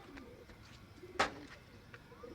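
Domestic pigeons give a soft cooing call, one brief clearer coo standing out midway against a quiet background with faint fainter calls around it.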